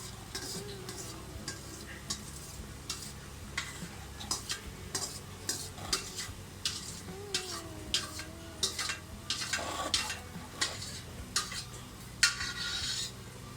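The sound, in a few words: stirring and cooking baltī gosht mutton in a pot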